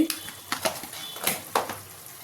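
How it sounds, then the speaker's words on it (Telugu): Spices for egg dum biryani being stirred in a pan, a series of quick scraping strokes close by over a soft, low frying sizzle, with no voices. "వేసి ఇవన్నీ మంచిగా ఫ్రై అయ్యేలా కలుపుకుందాం"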